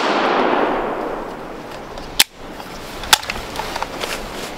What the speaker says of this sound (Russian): дали оружейный салют